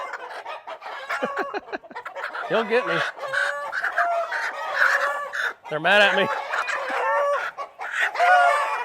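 Hens cluck and a rooster crows nearby, with someone talking over the birds throughout.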